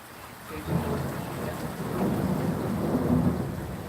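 Low thunder rolls during a nighttime rainstorm heard from a front porch, a deep swelling rumble over steady falling rain that builds and lingers for several seconds.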